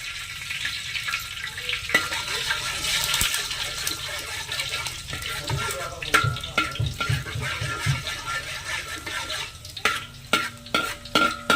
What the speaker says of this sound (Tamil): கடுகு பொறிஞ்சதுமே நம்ம வெந்தயம் போட்டுக்கலாம்